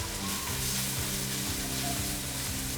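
Kashmiri chili, red chili powder and turmeric stirred into a hot pan for Kerala chicken curry: a continuous close, loud sizzle with soft stirring underneath.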